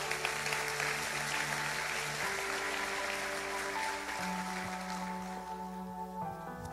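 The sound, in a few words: congregation applauding in church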